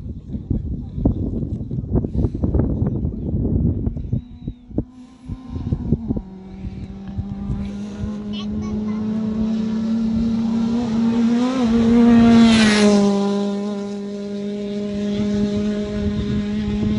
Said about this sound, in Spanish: Ahí se viene otro coche